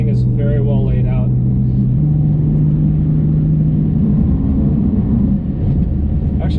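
A BMW E46 M3 drives along a street with a steady engine drone that dips and settles into a new pitch as a gear is shifted; someone talks over the cabin rumble.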